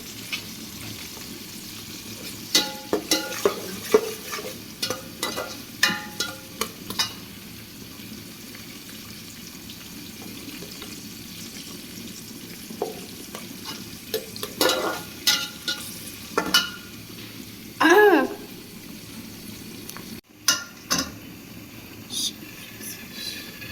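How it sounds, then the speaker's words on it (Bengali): Sliced onions and two bay leaves frying in a pan, with a soft sizzle broken by intermittent stirring scrapes and clinks. "পেঁয়াজ দিয়ে দিলাম, দুটো তেজপাতা"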